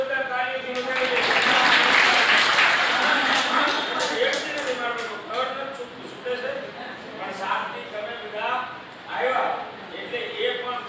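An audience at a Haridwar pothi yatra gathering breaks into loud applause that peaks early, then thins into scattered claps as voices talk and murmur over the crowd.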